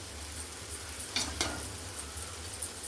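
Rice being stirred into mango pulihora in hot oil in a pan, giving a soft steady sizzle with a couple of brief scraping stirs, close and quiet with no talking.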